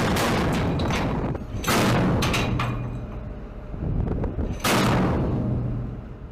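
Two 30mm Mk46 cannons aboard a US Navy LPD amphibious ship fire in loud, booming bursts, with rumbling echoes trailing between shots and no talking.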